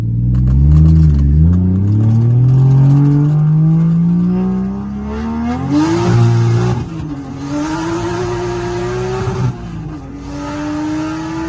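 A car with a Toyota 1JZ engine revs up steadily under load, its rising engine note cutting out in stutters as it hits boost cut, then holding and surging again, loud and close for over ten seconds.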